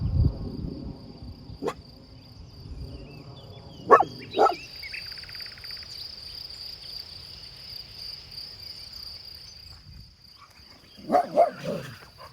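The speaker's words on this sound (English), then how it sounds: "Now what are you barking at?" A dog barks in a few short bursts, two quick barks then a pair more later, over a constant high insect-like whine.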